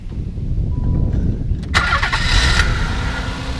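A 1990 Nissan 300ZX with 43,000 miles cranks briefly and catches, then settles into a steady running rumble, fairly close and loud.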